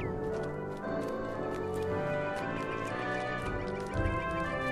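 Rhythmic hoofbeats of a goat mount in the video game Lord of the Rings Online, steady clip-clop footfalls over game ambience.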